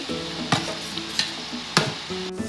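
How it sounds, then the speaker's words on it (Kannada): Spoon stirring shredded cabbage with grated coconut in a pan, a steady close scraping and soft sizzle broken by a few sharp clinks against the pan. "ಕ್ಯಾಬೇಜ್ ಹಾಕಿ ಆಯಿತು ಮಿಕ್ಸ್ ಮಾಡ್ತಿದ್ದೇನೆ"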